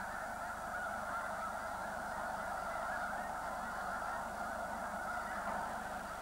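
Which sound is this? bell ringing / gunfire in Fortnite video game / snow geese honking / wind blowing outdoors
snow geese honking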